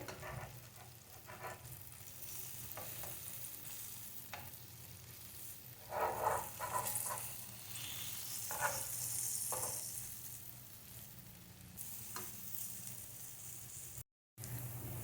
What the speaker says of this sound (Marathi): आपली मांदेली वन साईड भाजलेली आहे आता आपण ती परतून घेणार आहोत